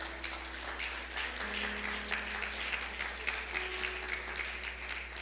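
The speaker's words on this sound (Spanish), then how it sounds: "denle un aplauso al Señor" A church congregation applauds during a sermon, a steady wash of many hands clapping at moderate volume, with a low background hum and faint voices underneath.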